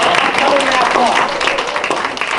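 Audience applause at a talk on Teddy Roosevelt, a continuous, loud wash of many hands clapping throughout with some voices blended in.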